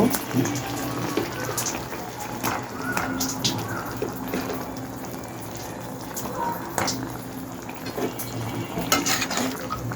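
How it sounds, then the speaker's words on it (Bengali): Small native tengra fish sauté with ginger garlic paste in a pan, a dense continuous crackling sizzle with scattered pops and clicks throughout, close and fairly loud. "মাছটা কষিয়ে রান্না করব"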